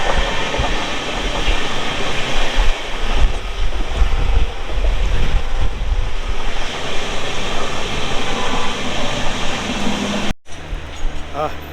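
The Sinhgad Express train from Pune to Mumbai rumbles and clatters steadily up close, with faint voices in the carriage and a brief cut near the end.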